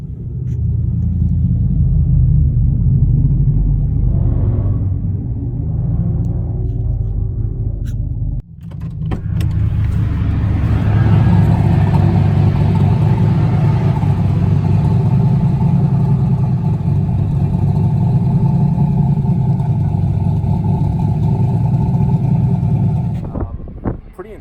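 A boosted car on hot laps around The Bend race track, its engine droning loud and close from inside the cabin. A brief dip comes as it shifts, then the engine winds up again into a sustained high-revving roar.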